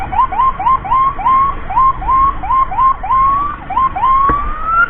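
An emergency ambulance siren wails in rapid repeating rising sweeps, loud and close, cycling steadily without a break during an escort through traffic.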